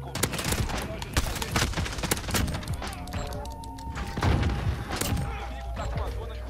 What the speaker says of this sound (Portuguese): Nossa, atirei no cara errado.